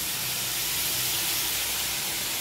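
Pork pieces frying in their own rendered fat in a pan give a steady, dense sizzling hiss that holds at an even level without a break.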